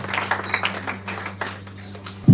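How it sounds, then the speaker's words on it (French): Short burst of audience clapping at a funeral gathering, several hands beating unevenly under a steady background hum, tapering off after about a second and a half before a sudden low thump at the end. "Merci, applaudissons très fort."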